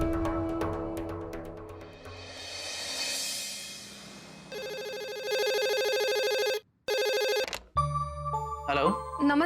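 A telephone rings during an outgoing call, a repeated electronic ringtone pattern following a stretch of background music, with a short gap between rings and faint tones after.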